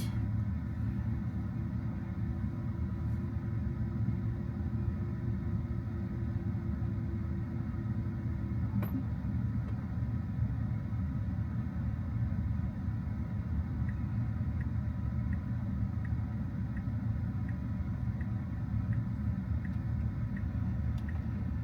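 A Tesla running FSD version 13.2.2 drives out of a Redmond Home Depot parking lot on city roads toward Sammamish, heard from inside the cabin as a steady, continuous low road rumble with faint whirring, and no one speaking.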